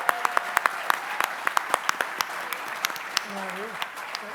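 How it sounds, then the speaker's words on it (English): An audience at a public panel event applauds with scattered, distinct claps, a crowd voice briefly rising near the end. "can we give a round of applause to the Tulane Pep Band?"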